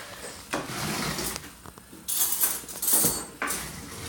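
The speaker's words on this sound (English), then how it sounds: "that honey dissolves in that really good. You just stir it. You can use a whisk too." Honey being stirred by hand into homemade elderberry syrup in a pot, with a spoon or whisk scraping and clinking against the sides in several short bursts separated by brief pauses.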